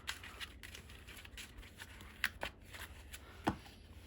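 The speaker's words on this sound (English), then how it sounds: "Shuffle the deck." A deck of trading cards being shuffled by hand during a Dark Magician test-hand session, a soft continuous riffle and patter at close range with a few sharper snaps, no talking.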